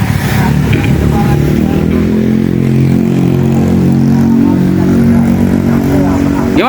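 A Honda Vario 150 scooter, freshly serviced to cure its stuttering and hesitation, is ridden with a steady, close engine drone throughout while someone talks over it.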